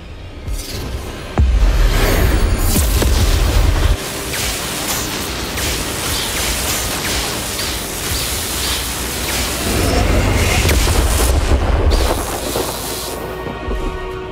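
Confringo and Bombarda spell blasts in Hogwarts Legacy during a boss fight, heavy booming bursts with rumbling low end around two surges, laid over a constant roaring wash of battle noise.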